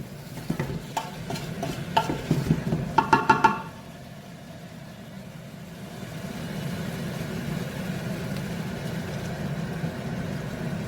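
Liquid bubbles and simmers steadily in a pan after a few clinking stirs at the start, a low continuous bubbling close by, onions simmering with added hot water.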